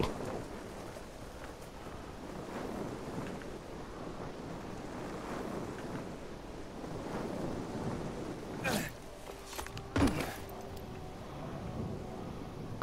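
Wind roars steadily in the video game Dying Light 2, a broad rushing gust that fills the whole stretch, with a few sharp clanks and thuds near the end.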